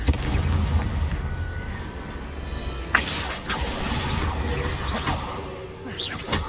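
Confringo fire-blast spell in Hogwarts Legacy, sharp whooshing bursts and booms over a rumbling battle bed, with a strong hit around the middle and another near the end.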